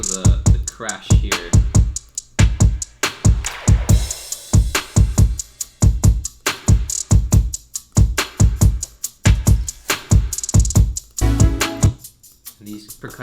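Crash cymbal hits in a dance-pop music track: bright, splashy bursts ring out a couple of times over a driving, steady percussion beat.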